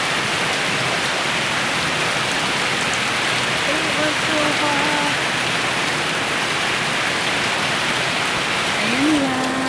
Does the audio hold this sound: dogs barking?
no